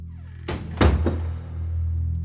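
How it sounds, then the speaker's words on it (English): An indoor door slams shut with a sharp thud, caught by a gust of wind in a small room; there are a few quick knocks around the single main impact, then a quiet room tone. "a gust of wind blows through the window, causing the door of the small room to slam shut"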